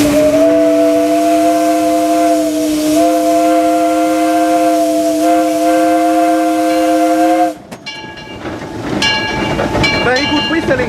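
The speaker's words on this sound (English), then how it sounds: "sounded the whistle very nicely" The steam whistle on Disneyland Railroad locomotive #4 Ernest S. Marsh blows one long, loud, steady two-tone blast with a short dip in the middle, then cuts off into hissing steam, clanks and cab rumble.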